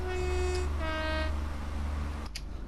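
A Class 166 diesel train in Train Sim World 2 climbs a steep hill, its engine giving a steady low drone with a tonal whine that shifts pitch as the transmission changes, ending in a short clunk.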